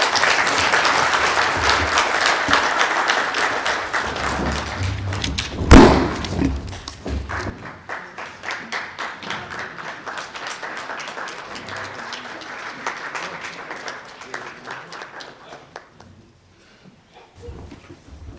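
A crowd applauds at the official opening of the 6th Society of Clerk-At-The Table professional development seminar in Windhoek, Namibia, a loud sustained round of clapping with a sharp thump partway through that fades out near the end.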